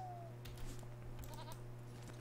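A goat mount in the online game Lord of the Rings Online gives a short, faint bleat against a steady background hum, with a few soft game sounds around it.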